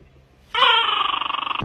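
A dog lets out one sudden high whine that holds for about a second and wavers with a rapid pulsing tremble before cutting off, loud and close after a quiet start.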